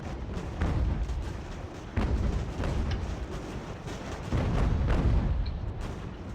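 Cannon fire from artillery arrayed near a fort during a Fort Ticonderoga battle in Ultimate General: American Revolution: repeated heavy booms at roughly one- to two-second intervals over a continuous rumble of battle, loud and fairly close.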